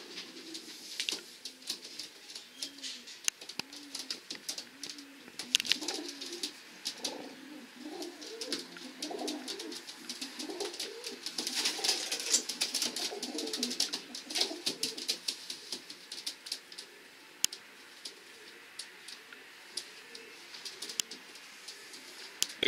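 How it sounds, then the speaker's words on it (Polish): Pigeons coo repeatedly in soft, low throaty phrases, close by, with faint rustling and chirps in the background. "To jest gołąbek"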